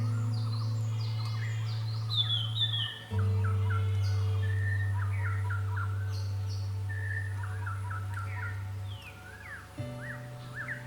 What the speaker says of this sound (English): while I could hear a number of birds